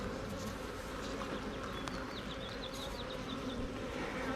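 A steady, dense buzzing of many honey bees from a beehive fills the background, with a few faint high chirps drifting over it; no voices.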